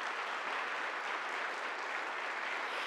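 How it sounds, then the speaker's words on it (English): Audience at a Lyme disease presentation clapping, a faint, even wash of many hands heard at a distance, steady throughout. "Can we just clap for Joanna?"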